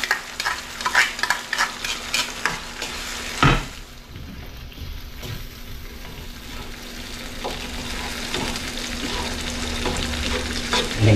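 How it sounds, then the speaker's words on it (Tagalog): Boiled mung beans go into a hot pan with a thud near the start, followed by steady stirring scrapes over a continuous low sizzle, close and moderately loud with no talking. "Lagyan na natin itong pinakulo natin munggo."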